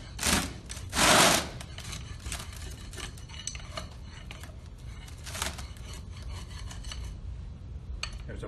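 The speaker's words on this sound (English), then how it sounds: "It's best to use that bevel as you're scraping the material off." Straight edge shaving excess soil level with the top of a Proctor compaction mold, a gritty rasping scrape in a few bursts, strongest near the start and again midway, over a steady low background.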